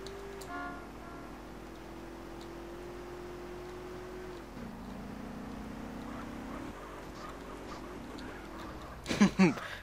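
A car in GTA San Andreas Multiplayer drones along with a steady engine hum, then brakes with a short, loud screeching burst near the end.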